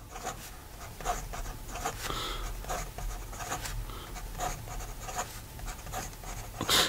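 A Parker Duofold Maxima fountain pen with an oblique nib scratches across paper in short, close strokes, a dry rhythmic scritching with brief lifts between words and no talking.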